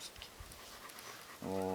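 A dog pants softly and rhythmically close by while being scratched outdoors near a forest house after light rain, with faint rustling of fur. Near the end a person's voice comes in over it.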